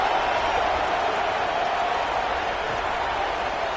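Stadium crowd in a college football video game matchup of Tennessee Volunteers and South Carolina at night, a steady, dense roar of cheering fans held at an even, loud level throughout.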